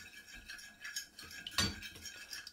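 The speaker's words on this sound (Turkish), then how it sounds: "Biraz da un ilave edip karıştıracağım." A utensil stirs flour into a mixture in a bowl for coating bonito fish before frying, giving soft scraping and light clinking against the dish, quiet and close with one louder knock midway.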